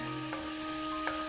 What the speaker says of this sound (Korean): 마늘 다진 거하고 양파 다진 거를 노릇노릇하게 이렇게 볶아준 다음에